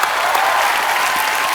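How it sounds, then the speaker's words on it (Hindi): Studio audience on a comedy talk show applauding guests Helen and Asha Parekh, dense, loud, sustained clapping throughout. "अच्छा भाई, एक बार हेलन जी और आशा जी के लिए जोरदार तालियां हो जाएं।"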